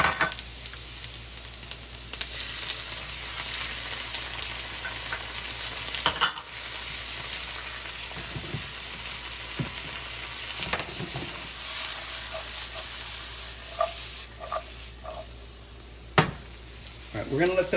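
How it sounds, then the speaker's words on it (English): Onions and garlic sizzle in hot vegetable oil in a pan, a steady close frying hiss that runs throughout with occasional stirring scrapes and clicks, no talking. "We're going to go ahead and put our onions and garlic in here"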